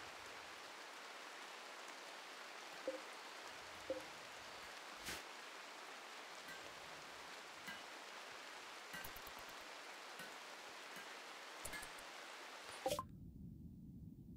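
Rain falling in the video game Rimworld, a soft, steady patter with occasional brief clicks over it, cutting off abruptly near the end.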